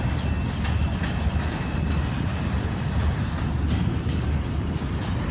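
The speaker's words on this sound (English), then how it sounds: "Pretty long train, man. It's still fucking coming." A long freight train passing nearby in a continuous loud rumble, heavy low-frequency roar with faint rhythmic wheel clatter, steady throughout without letting up.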